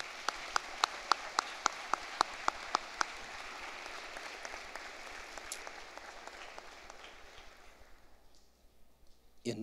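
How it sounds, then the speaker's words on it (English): Graduating students at the Clarkston High School 2024 commencement ceremony applaud their guests in one last round, a dense rain-like wash of many hands clapping with a few sharp near claps early, then gradually dying away. "one last round of applause for all of your guests this evening"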